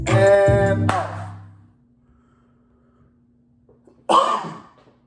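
Two loud, close coughs break the quiet during a snare drum lesson, the first a harsh burst that trails off and the second following a few seconds later.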